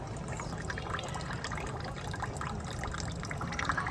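Water runs steadily into a bucket in a home kitchen, a constant gushing fill with faint trickling under light background noise, with no talking.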